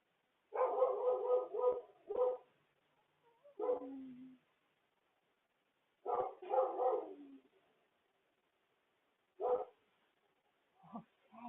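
A pet dog barks in several short bursts of two to four barks with whiny tails, separated by pauses, fairly close but moderate in level.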